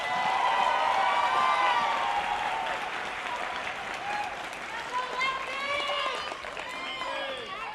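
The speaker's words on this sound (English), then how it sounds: "Let's give all these kids a big round of applause." An audience at a goat livestock show claps in sustained applause, loud at first and then tapering off, with cheers and voices mixed in.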